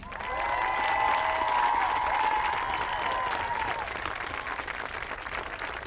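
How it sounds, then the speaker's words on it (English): Outdoor crowd applause at a high school athletic field for the Forest Lake High School Marching Band, steady dense clapping with some cheering that holds strong, then slowly thins toward the end. "Let's hear one more round of applause for our Forest Lake Marching Band."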